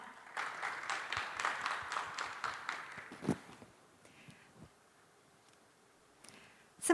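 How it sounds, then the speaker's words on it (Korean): An audience at a Korean innovation expo claps for a presenter, a crowd of hands pattering steadily for several seconds before fading into quiet, fairly soft and without speech. "여러분 힘찬 박수 부탁드립니다."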